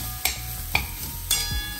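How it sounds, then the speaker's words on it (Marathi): Chopped pumpkin being stirred into a frying tempering of spices and turmeric in a pan, with a few distinct spoon scrapes over a steady low sizzle. "आता मी फोडणीमध्ये मिक्स करते"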